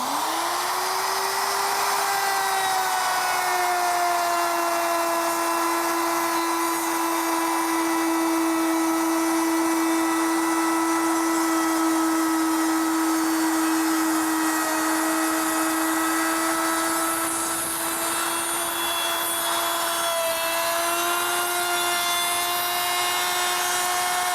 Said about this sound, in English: I use a router with a flush trimming bit